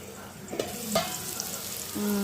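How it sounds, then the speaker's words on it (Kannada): Bottle gourd pieces frying in oil, a soft steady sizzle with a few scraping stirs and light clinks, brief and close, without speech. "ಸೋರೆಕಾಯಿ ಎಲ್ಲ ಚೆನ್ನಾಗಿ ಫ್ರೈ ಆಗಿದೆ"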